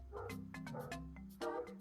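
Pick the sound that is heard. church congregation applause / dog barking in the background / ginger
dog barking in the background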